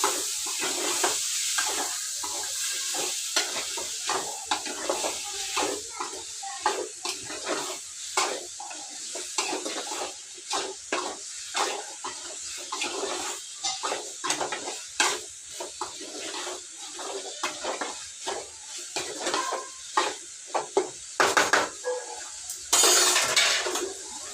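Boiled beans stirred into a curry in a pan, with a steady run of close scraping and clinking strokes over a soft sizzle throughout.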